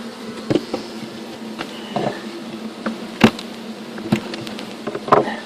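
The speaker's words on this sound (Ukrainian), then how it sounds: "бджоли всі обсижують рамочки" Honeybees hum in a low steady drone on hive frames being prepared for winter in horizontal hives, broken by scattered soft knocks and taps from handling the frames.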